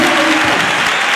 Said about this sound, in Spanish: un aplauso de salud y bendición a todos